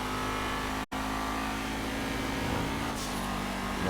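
A stock car engine in the GTA V video game drones continuously and loudly at a steady pitch, with a brief dropout near the start and a slight rise toward the end.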